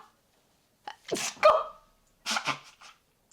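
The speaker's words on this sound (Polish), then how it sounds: "Kichnę." A woman sneezes twice in quick succession, fairly close and otherwise quiet, with a short breathy build-up before the first burst.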